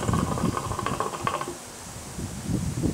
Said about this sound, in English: Apologize for the wind, it's kind of windy outside